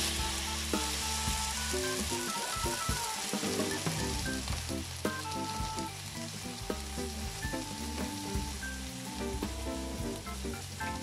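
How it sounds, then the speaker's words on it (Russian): Pork and green onion sizzle and crackle in vegetable oil in a hot frying pan, a steady, dense frying hiss that runs throughout with no voices. "сейчас вот это вот отправлю, немножко обжарю и добавлю туда фасоль"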